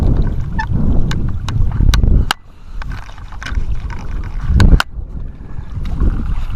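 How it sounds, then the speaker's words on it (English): Outdoor wind buffeting a microphone on a Missouri creek bank or field during a late-March search for flint arrowheads, a steady low rumble with gusty swells, loud and close, dipping briefly after a sharp drop midway. "A little windy right here."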